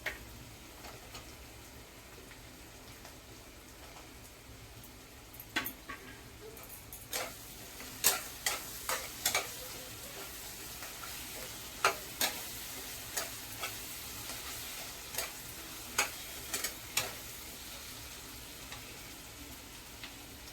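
Chopped pumpkin frying in a wok, a steady low sizzle with a run of sharp ticking clicks and taps from stirring that grow more frequent partway through, close and fairly quiet with no talk.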